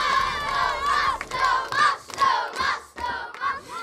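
Children in a school setting shout and cheer loudly in bursts to encourage a boy during his attempt at a game, their high voices rising and falling over about four seconds.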